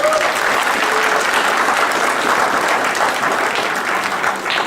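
Loud, sustained applause from an audience at the close of an event, steady clapping filling the whole stretch without a break.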